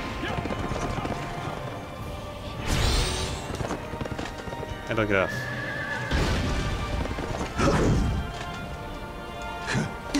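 In the Berserk Band of the Hawk video game, a horse whinnies repeatedly while hooves clatter, with game impacts mixed in and a player talking over the action.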